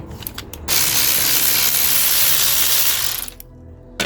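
A T25 Torx screwdriver loosening screws from a cast aluminium filter housing on a London black cab LTI TX4 Euro6, giving a few light clicks and then a loud, sustained gritty rasp for nearly three seconds before a final tap.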